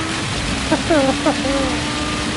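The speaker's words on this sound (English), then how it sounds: "Oh yeah, it's raining a lot by the pit straight though." Rain falls steadily in a Formula racing video game, a dense continuous hiss heard close. A voice briefly speaks over it partway through.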